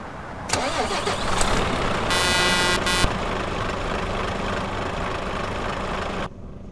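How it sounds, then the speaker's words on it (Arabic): A DAF XF truck with a 510-horsepower engine runs steadily, loud and close, with a deep continuous rumble and a brief rattling surge partway through before the sound cuts off. "نلتقيكم الآن مع الشاحنة المتميزة تاف اكس اف، تقريبا عندها 510 شوف"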